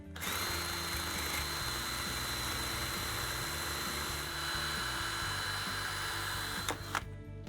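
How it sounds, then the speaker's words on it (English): A power drill whines steadily and loudly for several seconds as a drill-powered cutting tool grinds through a metal bolt, ending with a brief clatter. "we're going to use the power of the drill to help cut through this bolt"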